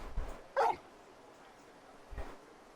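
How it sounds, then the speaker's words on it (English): A large dog in a video game gives a few short, muffled barks and yips at a moderate distance, one sharper bark standing out over a faint background hum, with no talking. "You're just a big puppy, aren't you?"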